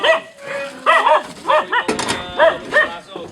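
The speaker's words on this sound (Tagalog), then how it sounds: "yung mga aso" Several dogs bark and yip in short bursts, fairly loud and close, with a few whimpering notes mixed in and no talk over them.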